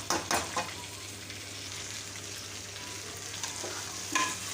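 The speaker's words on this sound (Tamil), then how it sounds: "பருப்பும் போட்டு நம்ம நல்லா வறுக்கணும்." Lentils are dry-roasted in a home kitchen pan for varutha sambar, with a soft, steady sizzle. A few sharp scraping stirs sound at the start and again near the end, and no one speaks.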